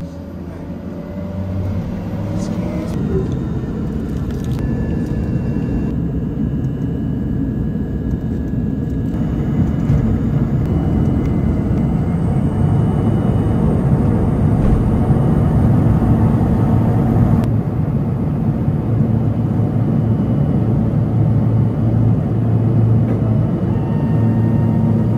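Steady engine drone fills the cabin of a small Boutique Air passenger plane in flight, a loud constant low hum and whir that swells slightly midway, heard from a rear-facing seat with no talking.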